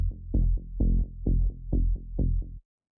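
A synth bass patch from Serum in a tech house track, playing a bouncy rhythmic pattern of short plucked notes with decaying tails, clean and alone, stopping abruptly after about two and a half seconds.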